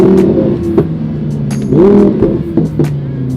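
Audi R8 engine, tuned by TT with a rear-wheel swap, revs in sharp bursts with quick throttle blips on downshifts, close and loud, its pitch rising and dropping between short pops.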